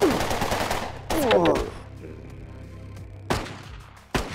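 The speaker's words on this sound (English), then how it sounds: "Using my pistol." Pistol gunshots fire in a zombie game from Xbox Live Indie Games. There are three or four loud, sharp reports, spaced irregularly, over a steady low game background hum.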